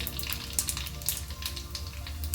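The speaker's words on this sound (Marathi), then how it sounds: "तेल आता गरम झालेलं आहे याच्यामध्ये आपण मोहरी घालूया एक चमचा मोहरी घालायची आहे" Mustard seeds and cumin sizzling and crackling in hot oil, a steady close frying hiss with small pops scattered throughout and no talk.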